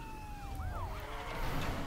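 Wailing police car siren from a Need for Speed racing game, a rising and falling electronic tone sweeping over steady engine rumble and road noise, continuous and moderately loud throughout.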